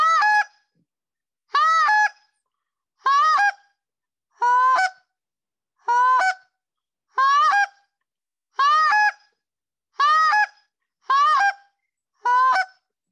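A short reed goose call blown in a repeated three-note cluck scale, ten crisp honking clucks spaced evenly with brief silent breaths between, close and clear with no talking.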